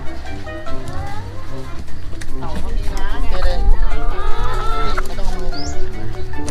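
Chickens clucking and squawking at an outdoor cafe zoo area while children feed them, the calls mixed with a busy crowd of voices and chatter throughout.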